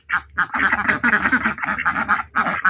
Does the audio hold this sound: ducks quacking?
yes